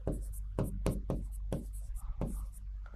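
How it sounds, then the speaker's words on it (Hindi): Names written by hand during a lecture on Mughal-era family titles, heard as a series of short scratchy strokes with brief pauses between words, close and moderately quiet. "जैसे मैं नाम लिखता हूं"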